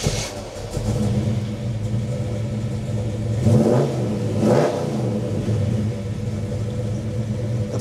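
A 1970 Chevy Chevelle 454 SS V8 rumbles loudly nearby and is revved twice in quick swells over a deep, steady idle.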